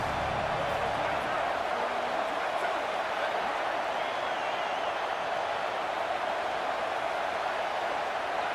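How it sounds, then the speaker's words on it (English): A video game American football stadium crowd roars in a dense, unbroken wash of cheering noise at a steady, loud level during a red-zone third down. "this crowd is at fever pitch."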